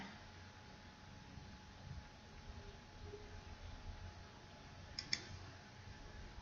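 A computer mouse clicks faintly twice in quick succession near the end while someone works through yearly shop scores in a spreadsheet, set against a quiet, steady room hum.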